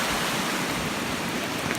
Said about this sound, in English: everything from all up on every side, everything's pouring water at us